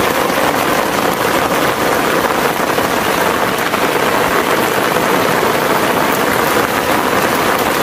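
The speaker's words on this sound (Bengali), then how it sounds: "আমার মনে হয় যে আমার কথাটাও ঠিক মতো শোনা যাইতেছে না বৃষ্টি আওয়াজের কারণে।" Heavy rain pours down during village shrimp fishing, a loud, constant broadband roar that fills the whole clip with no pauses and no voices.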